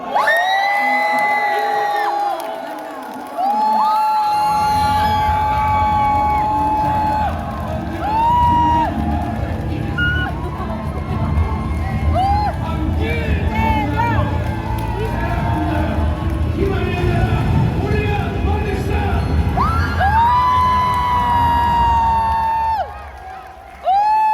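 A big crowd at a Korean presidential candidate's rally in Gyeongnam cheers, whoops and applauds loudly and without a break, with shouts and an announcer's amplified voice over the roar.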